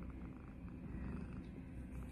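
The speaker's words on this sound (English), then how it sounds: "She's doing biscuits, and I can hear her purring." A female cat purrs steadily while kneading, a low continuous rumbling hum close by and fairly quiet, with no voices over it.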